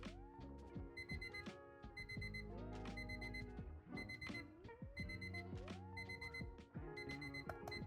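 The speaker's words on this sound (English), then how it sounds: "here is the alarm." A $50 timer cube's alarm rings out loud and close, a steady repeating pattern of electronic beeps with a bright tonal chime layered over it, pulsing at a regular rhythm for several seconds with no talking.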